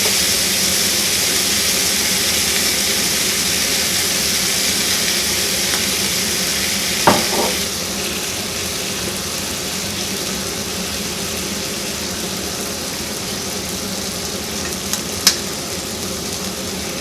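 Egg frying in oil on a stainless steel Tepan grill of a BORA Classic 2.0 hob, giving a steady, even sizzle throughout with a couple of faint clicks and scrapes.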